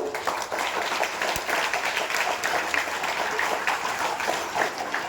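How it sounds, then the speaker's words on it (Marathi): A crowd of students and guests at a school commemoration event applauding steadily and loudly for several seconds, dense clapping throughout with no talk over it. "एकदा या ज्यांनी इथे भाषण दिलं त्या मुलांसाठी एकदा जोरदार टाळ्या वाजवू"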